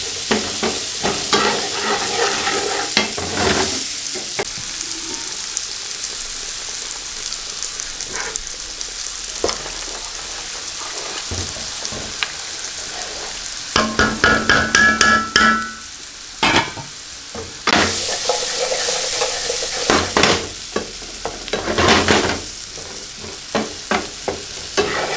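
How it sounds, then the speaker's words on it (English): Potatoes fried until golden brown in a frying pan, a steady close sizzle with bursts of scraping and stirring from a utensil against the pan, no talking. "I like to put them in a frying pan, fry them up, cook them through, golden brown them"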